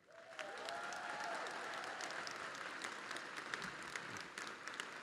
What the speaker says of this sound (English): please give him and his family a round of applause.